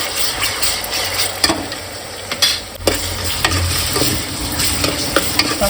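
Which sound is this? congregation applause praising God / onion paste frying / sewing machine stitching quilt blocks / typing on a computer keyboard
onion paste frying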